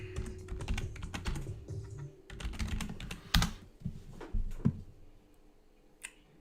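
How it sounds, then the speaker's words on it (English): Quick bursts of typing on a computer keyboard, close clicking keys in uneven runs with brief pauses and a few louder taps. "Oh, and then I want to type fibromyalgia."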